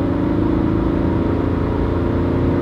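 Chip-tuned diesel car accelerating hard from a standstill, a loud, steady engine roar close by that holds through the run, with no clear break for a gear change.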